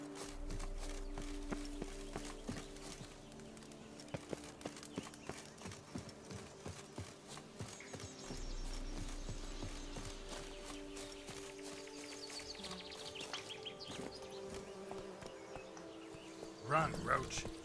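The horse Roach clip-clopping along in The Witcher 3, steady hoofbeats under a long stretch of talking and game music, faint overall, ending in a louder flurry of sound.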